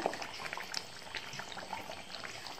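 Leftover chicken gravy simmers in a pan for hariyali chicken, giving a quiet, continuous bubbling with scattered soft pops and small splutters at close range.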